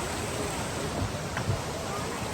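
A clear mountain stream by a waterfall cafe in the Kaghan Valley, a steady close rush of flowing water filling the scene without pause, with no clear talk over it.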